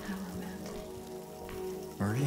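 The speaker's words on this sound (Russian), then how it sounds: "Надо же, будем гулять под дождем." Rainfall in the Silent Hill 2 Remake, a soft steady patter under low tonal game ambience, with a brief voice entering near the end.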